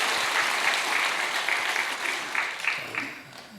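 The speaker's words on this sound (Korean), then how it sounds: "박수 한번 해주시면 고맙겠습니다" A church congregation at an early-morning prayer service claps together in a sustained burst of applause that fades toward the end, with faint voices mixed in.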